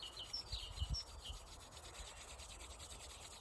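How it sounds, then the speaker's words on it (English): Palms rubbing briskly together outdoors in a forest, giving a soft, dry, close-up friction sound in a few short strokes over a quiet background hiss. "Rub your hands together."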